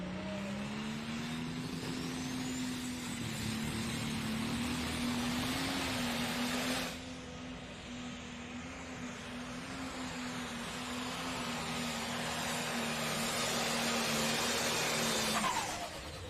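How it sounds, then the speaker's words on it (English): A pulling tractor at the Henry County Fair Grand Nationals in Napoleon, Ohio, roars under load, its engine note holding a steady drone and then climbing in pitch as the RPMs build, loud and continuous throughout. "It's good to listen to the RPMs build on the tractor."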